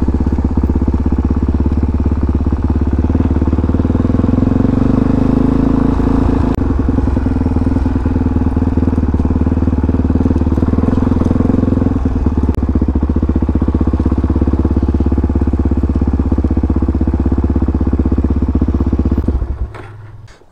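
A 2022 Peacesports Brozz Recon 250 motorcycle being ridden near an island outpost, its engine droning loud and steady with a rough clattering note that holds, then cuts out abruptly at the very end.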